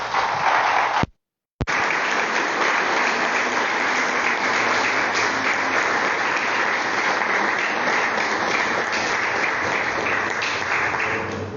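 A church congregation claps steadily and loudly during a worship service, a dense wash of applause that continues almost without pause.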